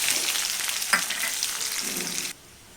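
Onions and curry leaves frying in hot oil with mustard and cumin seeds for a cauliflower curry, a steady loud sizzle with a brief stir or spatter near the middle that stops abruptly before the end.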